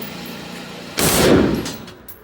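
A SAW M249 machine gun fires one short, loud burst at an outdoor shooting range in Las Vegas, a rapid chatter lasting about a second before fading into the quiet of the range.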